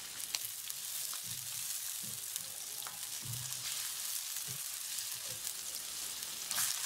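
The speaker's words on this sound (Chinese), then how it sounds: "锅中再次放油，放葱姜蒜炒香。" Scallion, ginger and garlic sizzle in hot oil in a wok, a steady, moderately quiet crackle broken by low scraping knocks of stirring.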